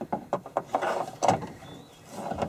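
Close creaking and clicking from a metal pry tool working against a locked truck door, uneven knocks and scrapes with a brief quieter stretch.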